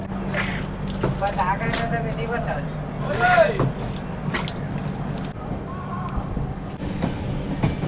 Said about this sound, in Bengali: হাওড়া থেকে চেন্নাই যাচ্ছে ট্রেনটা।